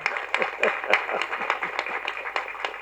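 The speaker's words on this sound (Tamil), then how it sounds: "இந்த சபை கைதட்டுவதை பார்த்து" An audience claps in a hall at a Tamil launch event, a fairly quiet, steady series of rhythmic claps in quick succession with no talking.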